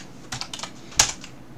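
Several quick keystrokes sound on a computer keyboard, close and fairly faint, with one sharper key press near the end and no talking.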